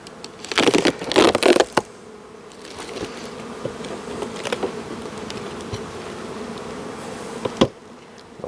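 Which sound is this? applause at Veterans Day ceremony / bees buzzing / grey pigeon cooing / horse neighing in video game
bees buzzing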